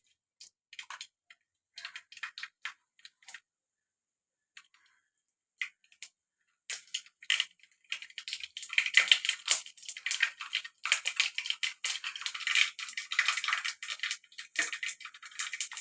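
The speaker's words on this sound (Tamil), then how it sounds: "கடுகு போட்டுக்கலாம். நல்லா பொரிஞ்சு வரட்டும் கடுகு." Mustard seeds crackle and splutter in hot oil in a pan, starting as sparse scattered pops and building into a dense, continuous crackling patter with no talk over it.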